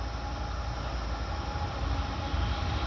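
A CN container freight train rumbles past at close range in Foley, Ontario, a steady, loud, broadband roar of wheels and cars that holds without break throughout, with no talk.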